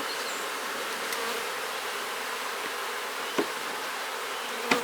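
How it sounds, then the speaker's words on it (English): Honeybees buzz in a dense, steady drone around a queen cage, close and continuous, with a couple of faint knocks or taps near the end. "Shake these bees out of my queen clip."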